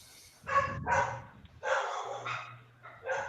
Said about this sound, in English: We got Rob's dogs